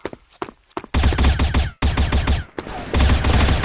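Bursts of rapid automatic gunfire from the shooter video game Assault Fire, loud and close, in several long volleys separated by brief gaps and a few quieter single shots.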